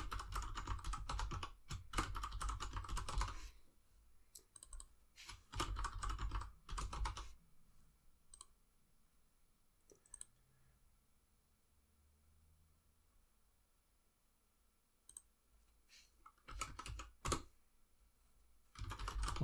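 Bursts of typing on a computer keyboard as a new administrator password is entered during firewall setup, clustered clicks in several short runs separated by quiet pauses, close and fairly loud with no talk.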